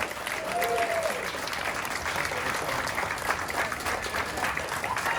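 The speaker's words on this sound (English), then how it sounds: "So I'd like you all to applaud for our speaker, Dr. Robert Kirk." Loud, sustained audience applause fills the room, dense and continuous throughout, with a faint voice briefly audible beneath it.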